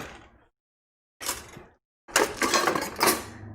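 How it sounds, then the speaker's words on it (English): Fine mesh strainer handled against a stock pot, giving short metallic scrapes and clanks in separated bursts with silent gaps between them, close and fairly loud, ending in a longer rattling stretch. "fine mesh strainer like this"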